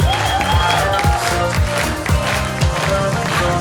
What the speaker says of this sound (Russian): Аплодисменты отдельно роботам нашим.